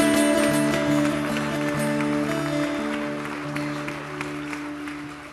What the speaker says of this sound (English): Now let's clap our hands and thank God for what he's doing.